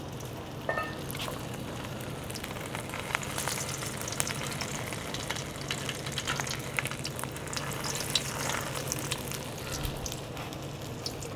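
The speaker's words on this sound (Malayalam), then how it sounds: "ഞാൻ ഒരു പാത്രം അടുപ്പിലോട്ട് വെച്ച് കുറച്ച് വെളിച്ചെണ്ണ ഒഴിക്കുവാണേ" A quail kizhi bundle fries in coconut oil in a pan on the stove, a steady close sizzle with crackling pops that runs on without talking.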